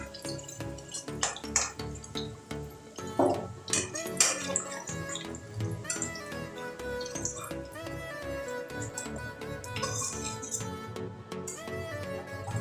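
Lightly fried potatoes are lifted out of hot oil in a pan, with repeated metallic clinks and scrapes of a spoon against the pan over a soft oil bubble, close and uneven.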